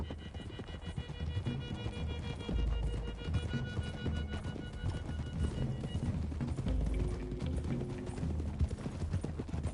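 Horses clip-clop steadily along a road in Red Dead Redemption 2, a brisk multi-hoof rhythm running the whole way under game music and ambience, with no talk.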